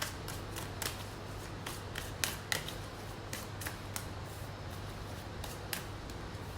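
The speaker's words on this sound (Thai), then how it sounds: "เปิดไพ่สักครู่นะคะ" Tarot cards shuffled and dealt out, giving a steady soft riffling rustle broken by crisp snaps and slaps as cards land, close and fairly quiet, with no talking.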